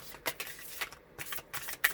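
Tarot cards riffled in a shuffle, several quick papery bursts spaced about half a second apart, close and fairly quiet with no talking.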